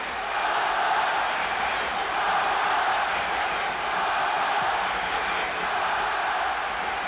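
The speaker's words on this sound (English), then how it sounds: "This huge crowd now getting behind Barcelona" Huge football stadium crowd at a 1975 European Cup semi-final, Leeds against Barcelona, roaring steadily from a distance in a broad, sustained wash of noise with no clear breaks.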